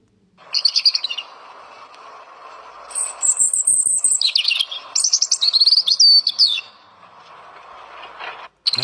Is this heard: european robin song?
yes